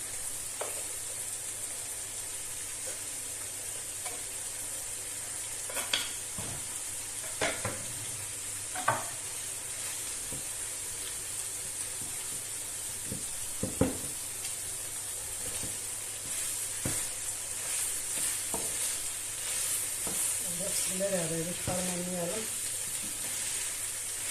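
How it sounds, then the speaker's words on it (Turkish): Chopped red kapya and green peppers sizzle steadily in a hot pan, with occasional clinks of a utensil stirring; the frying hiss runs continuously throughout. "Şimdi doğradığım kapya biberini, yeşil biberleri de ekliyorum."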